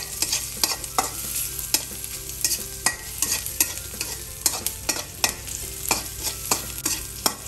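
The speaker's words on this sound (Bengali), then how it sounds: "তাহলে আমি একটু নাড়াচাড়া দিয়ে নিই" Leftover beef and onions stirred in a frying pan, a spatula scraping in steady rhythmic strokes over a constant close sizzle, with no talking.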